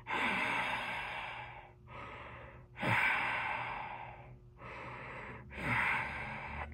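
A voice imitates snorkel breathing with three slow cycles of raspy, hollow inhales and exhales. The breaths are close and fairly quiet, with no talking between them.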